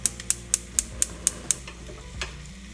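Onions and vegan bacon frying in a skillet, a soft steady sizzle under a run of seven even, sharp metallic taps like a utensil striking the pan, then a single louder clink near the end.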